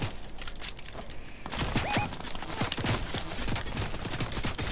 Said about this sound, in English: Oh, that guy has a minigun.